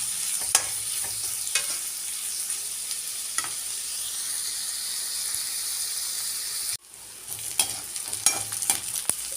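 Two medium onions fry in a pan, giving a steady, loud sizzle with the scrape and clatter of stirring throughout, a brief break partway, then the sizzling resumes with more stirring knocks.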